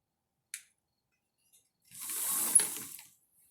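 A sewing machine stitching fabric for a baby sling runs in one short burst of about a second, preceded by a faint click, quiet and close with no talking.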